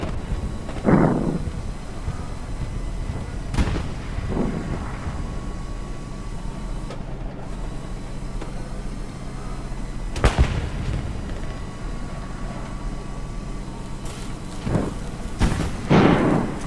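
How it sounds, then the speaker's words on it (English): Explosions and gunfire in the Hell Let Loose video game, set in the Ardennes offensive: a few sharp blasts, likely a satchel charge, crack out over a steady rumbling battlefield bed, spaced several seconds apart at moderate distance. "Sounds like a satchel unless somebody's repairing."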